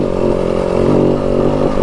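A 2025 Yamaha WR 250F dirt bike being ridden over loose ground up a hill, its engine buzzing loud and close with a rough, steady mechanical drone and slight revving, no speech.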